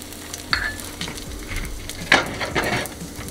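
Dosa batter frying in ghee on a pan, a soft continuous sizzle punctuated by a few scraping stirs and utensil touches, close-up and without speech.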